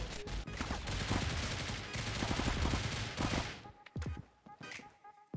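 Rapid MP7 submachine gun bursts in the mobile shooter Critical Ops, dense and loud for several seconds, then breaking off into a few scattered single shots and quieter game sounds.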